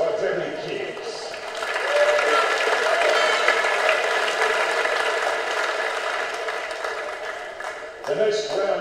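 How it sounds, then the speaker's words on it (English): Sustained applause from the crowd at a junior under-14 club basketball championship medal ceremony, a broad steady wash of clapping that swells and holds, with talk briefly over it near the end. "Ladies and gentlemen, one last round of applause for Debbie Kears."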